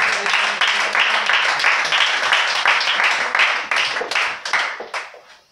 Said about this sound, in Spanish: Démosle un aplauso fuerte a Dios.